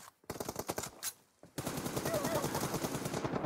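Rapid automatic gunfire from a shooting video game, a bursty rattle of shots, a brief pause, then a longer sustained stream of rounds, moderately loud and close.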